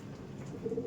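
A prized Andhra pigeon at a loft in Behala gives a soft, low coo near the end. The coo is faint and close, over quiet background hum.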